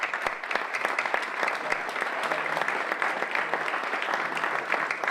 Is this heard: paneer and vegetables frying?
no